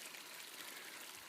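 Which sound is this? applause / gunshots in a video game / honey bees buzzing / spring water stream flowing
spring water stream flowing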